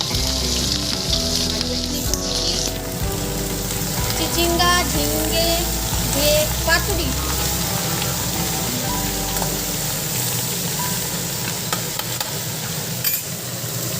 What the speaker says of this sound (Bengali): মাছ ভাজা বসিয়ে দিয়েছি